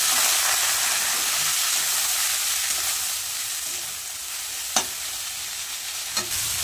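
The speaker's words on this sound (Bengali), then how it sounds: "কেটে রাখা মূলো শাকগুলো দিয়ে দেবো।" Chopped radish greens frying in hot oil with mustard seeds and dried chili, giving a loud, steady, hissing sizzle throughout with two brief sharp clicks of a utensil near the end.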